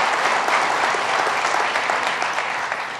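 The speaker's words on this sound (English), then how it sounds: "round of applause." Audience at a Hudson Valley summit on harmful algal blooms gives a round of applause for a doctor: a close, dense, sustained clatter of many hands lasting about three seconds, with no talking on top.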